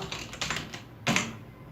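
Several light keystrokes on a computer keyboard type out a single word in a quiet room, a quick uneven run of soft clicks ending in one slightly firmer tap.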